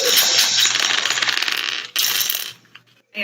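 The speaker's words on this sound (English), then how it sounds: "I'm actually picking out the dice I'm using" Dice rattle and clatter continuously as they are picked through and handled in a pile, a dense close-up clicking that breaks off briefly, resumes, then fades to near quiet.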